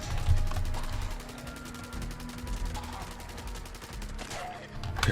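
A newly added weapon fires repeatedly in Fallout 76, a dense run of rapid shots over a low rumbling game background, steady and fairly loud throughout.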